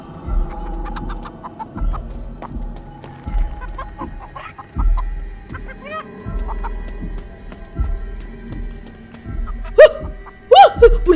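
Giant chicken in the horror game Chicken Feet clucks repeatedly in low rhythmic pulses, close and loud, with sharper squawks breaking in near the end.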